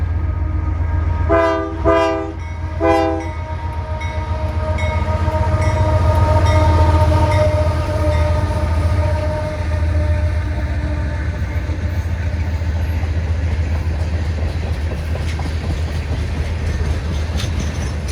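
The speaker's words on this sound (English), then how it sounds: "Here's NS 345 with a trio of Union Pacific motors headed to New Orleans." Norfolk Southern freight train NS 345, led by three Union Pacific locomotives headed to New Orleans, sounds its horn in two short blasts near Meridian, Mississippi, then a loud, continuous engine rumble and rolling wheel noise carry on.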